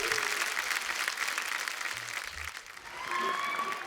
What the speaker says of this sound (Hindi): जोरदार तालियां हमारे दोस्तों के लिए।